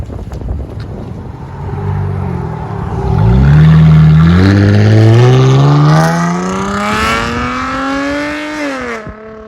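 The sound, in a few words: Dodge Challenger V8 engine idling and revving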